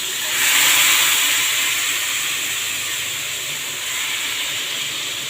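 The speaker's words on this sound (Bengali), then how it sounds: "বাগার দিয়ে দিতেছি" A hot tempering (bagar) with cumin poured into freshly cooked dal sizzles loudly, a sharp hissing burst that settles into a steady crackling fizz.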